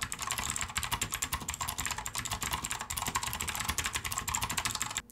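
Rapid, steady clacking of a budget mechanical gaming keyboard with Cherry MX Blue style switches, typed fast in a typing race; dense continuous keystrokes close up with no speech.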